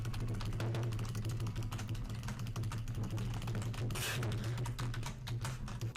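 Fast, continuous typing on a computer keyboard, dense quiet key clicks with a brief louder burst, over a steady low hum, with no talking.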